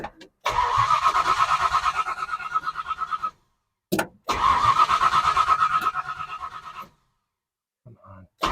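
A 1970 Ford Falcon with a freshly cleaned carburetor that is not getting fuel cranks twice in long rhythmic starter bursts, loud and close, failing to catch, with short silences between and a faint brief sound afterward.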